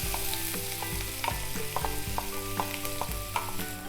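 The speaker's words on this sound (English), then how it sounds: "We're going to saute this onions for approximately 4 to 5 minutes until it is nice golden brown." Two medium onions, about 200 grams, sizzle steadily in a hot pan with repeated scraping stir strokes, for an Andhra fenugreek chili chicken dish. The sizzle is close and busy, with no talking.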